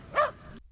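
A single short, faint yip from Bruno, a seven-month-old puppy recovering from the flu, heard once at a distance against a quiet background.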